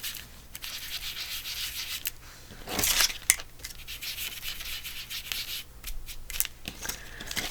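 Pink colour rubbed by hand onto avocado-dyed paper, a steady dry scuffing that swells and fades in short strokes, close and fairly quiet, with no voices.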